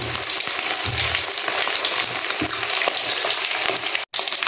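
Chicken chilli frying in hot oil, a steady dense sizzle with crackling bursts running continuously and loud, briefly cutting out near the end.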